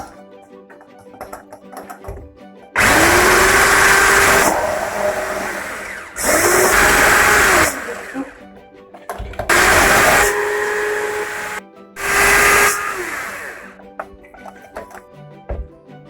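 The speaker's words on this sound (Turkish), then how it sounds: "Bunları iyice çırpıyoruz." An electric mixer whisks cake batter with sugar and vanilla, loud whirring in four separate bursts with short pauses between them.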